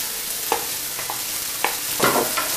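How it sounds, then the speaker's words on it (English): Precooked pork goes into hot oil with chopped onion and red pepper and searing begins, a steady sizzle broken by several sharp scrapes of the spatula in the pan. "let's go ahead and add this pork in to our hot oil"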